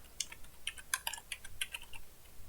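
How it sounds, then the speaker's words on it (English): Quick, light typing on a computer keyboard while working in a LibreOffice Calc spreadsheet, crisp clustered keystrokes tapping in short bursts, close and fairly quiet, with no voices. "we could type that in here"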